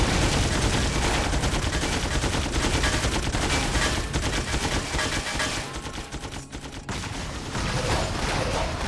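Rapid gunfire from the PC game Torchlight, dense bursts of shots and fusillades rattling continuously at moderate level, thinning briefly before resuming.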